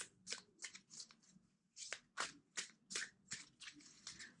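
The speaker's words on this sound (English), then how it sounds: "Two more shuffles." Tarot cards are shuffled close up in quick, crisp riffling bursts, about a dozen in a loose rhythm, with no talking.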